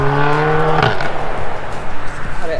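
A car engine at a car show revs high, then drops as it upshifts, with a squeal of tyres and rumbling road noise afterward, close and loud.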